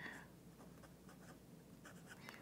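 Soft, close scratching of a fountain pen with a 1.1 millimeter stub nib moving over paper, made of brief repeated strokes in a quiet, even rhythm, with no voice over it.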